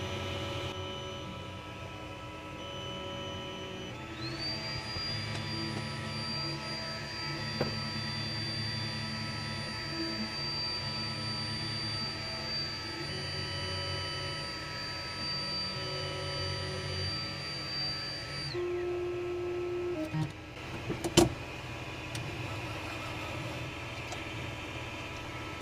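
A 3D printer fitted with an auto bed-level sensor slowly prints a test pattern, giving off a steady high-pitched motor whine that holds for several seconds over a constant low hum and faint mechanical ticking, with no talk.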